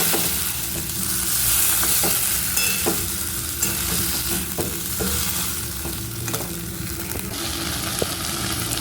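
Jackfruit and mutton masala paste, thinned with a little water and cooked with mutton fat, sizzles and fries steadily in a pan. Repeated scraping stir strokes break through the constant frying hiss, with no talking.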